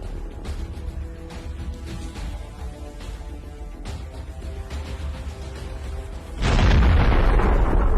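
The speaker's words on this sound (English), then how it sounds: "One hit is enough to immobilize the armored personnel carrier." Tank round from a captured Russian tank striking a Russian armored personnel carrier in combat, a loud sudden boom that lands near the end over a steady engine rumble and then fades into a rolling roar.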